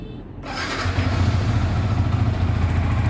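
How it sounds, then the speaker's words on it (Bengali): A Yamaha R15 V3 motorcycle, a used bike at about 3,300 km, starts after a short quiet moment and settles into a close, steady, smooth idle with a low throbbing engine note. "এবার বাইকটা স্টার্ট দিচ্ছি আমি"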